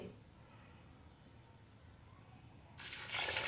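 Water pouring into a cooking pot of potatoes and masala in a home kitchen, a short splashing gush starting suddenly after a quiet low hum and continuing loud to the end.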